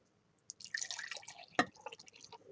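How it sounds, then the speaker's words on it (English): Liquid pours into a cup during a kitchen chemistry demonstration, a close, trickling splash that starts abruptly and runs unevenly with a sharper burst partway through. "I'm going to pour it into a cup first because I don't want to lose any of it"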